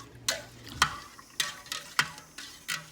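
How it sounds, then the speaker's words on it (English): A spoon stirs yogurt inside an Instant Pot, making a few quiet, separate scraping strokes roughly every half second up close. "I'm just going to give it a little bit of a stir"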